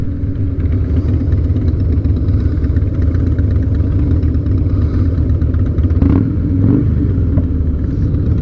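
A Harley-Davidson motorcycle engine idles steadily and close by, its low, loping rumble continuous and loud throughout with a bit of mechanical clatter and no talking.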